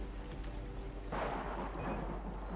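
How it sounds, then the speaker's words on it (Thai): Thunder rolls through the horror game Outlast, a low constant drone suddenly swelling into a broad, rumbling crack that lingers and fades. "ฟ้าผ่าฟ้าร้อง"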